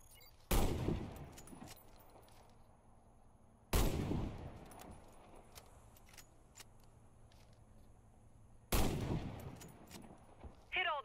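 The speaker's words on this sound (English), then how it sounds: "Hit all the targets with your Sniper Rifle." Three single sniper rifle shots in the Warface video game, each a sharp, loud crack with a decaying tail, spaced several seconds apart over a quiet background.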